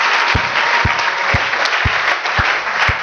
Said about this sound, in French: Applaudissons fort.